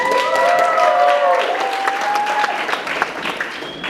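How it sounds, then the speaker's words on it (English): Loud, close applause for a dance performance at a graduation showcase, dense clapping with cheering voices and a high whistle rising over it, tapering slightly toward the end. "Can we give them another round of applause?"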